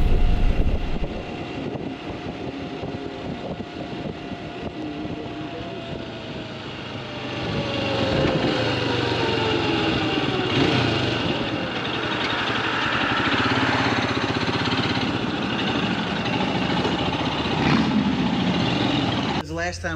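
A Royal Enfield Scram 411 single-cylinder motorcycle rides along, its engine drone rising and shifting steadily over wind rush, with a rider's voice talking over it throughout.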